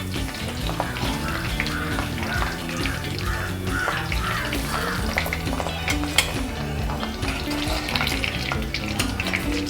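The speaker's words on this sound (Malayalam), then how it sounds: "ഇത് അരപ്പൂടെ വറുത്ത് കഴിഞ്ഞ് കോരി എടുക്കണം." Chicken coated in spice paste fries in hot oil at a Kerala thattukada-style stall, a continuous dense sizzle and bubbling with occasional stirring scrapes, close and steady throughout.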